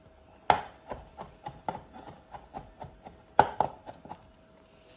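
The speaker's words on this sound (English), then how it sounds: "which I am gonna roughly chop along with a good tablespoon of" A knife roughly chops capers and herbs on a board in a steady series of close, crisp thuds, with two sharper, louder knocks among the lighter taps.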